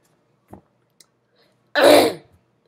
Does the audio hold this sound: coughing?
yes